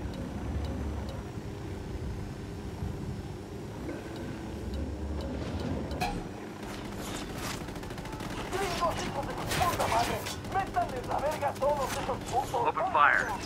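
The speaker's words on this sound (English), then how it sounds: "Ready? Open fire." Gunfire erupts in the tactical shooter Ghost Recon Wildlands, with rapid bursts of automatic shots crackling over a low engine rumble, building in density toward the end, while voices speak over it.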